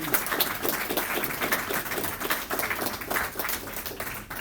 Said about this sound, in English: One more round of applause for our teachers and staff members of the